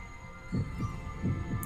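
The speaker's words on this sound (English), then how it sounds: "It's not a drum. It's Mjolnir's heartbeat." Drum-like heartbeat effect for Thor's hammer Mjolnir in the anime Record of Ragnarok, from the Thor vs Lu Bu fight: two deep double thumps, lub-dub style, pulse over a steady low hum.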